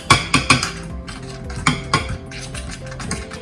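A spoon stirs sugar into mashed blackberries in a stainless steel pot, giving a string of close metallic scrapes and clinks with a few sharper taps near the start and irregular rhythm throughout.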